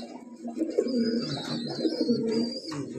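Racing pigeons in a loft coo and murmur close by, several overlapping soft throaty calls repeating in uneven bursts, with a few faint higher chirps above them.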